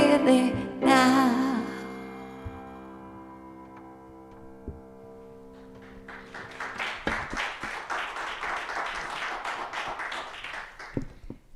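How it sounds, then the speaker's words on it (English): Church congregation at a New Year's Sunday service applauding, starting as a sustained musical chord fades out, then a moderate wash of many hands clapping, steady and fairly near, with a few sharper claps near the end. "Oh, one more round of applause."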